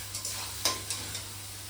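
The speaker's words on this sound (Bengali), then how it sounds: "চিকেনগুলো প্রথমে ভাইজে নিব" Chicken pieces frying in a pan with spices, a steady soft sizzle broken by a few brief scraping stirs, close and fairly quiet, with no voices.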